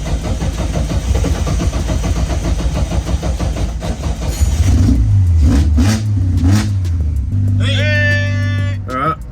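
Forged Barra engine in a car revs under throttle after an alternator change, loud and close, with a steady idle rumble broken by rising revs and whine; voices talk over it.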